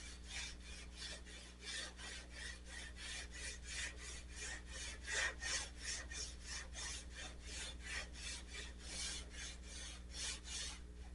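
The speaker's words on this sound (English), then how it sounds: "Sandpaper's not really gumming up that much." Hand sanding of car body paint with sandpaper, a steady rhythmic rasping of quick back-and-forth strokes, close and fairly quiet, with no talk.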